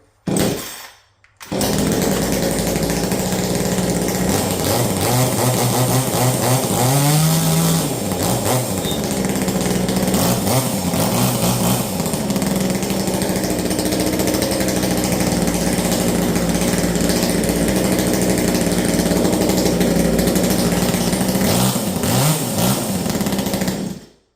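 Joncutter Farmertec G2511, an Echo-clone two-stroke chainsaw, running close to the microphone after a brief opening noise, a loud, steady buzzing drone that rises and falls slightly in pitch throughout.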